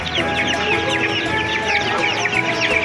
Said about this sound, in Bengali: এরপরে বিভিন্ন জাতের মুরগির বাচ্চা এবং বিভিন্ন ধরনের পাখি এখানে নিয়ে আসে।